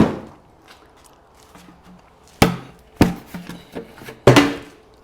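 A flower pot being cut with a hand tool, three sharp, loud chopping strikes spaced unevenly, with quieter knocks and handling sounds between them in a quiet room.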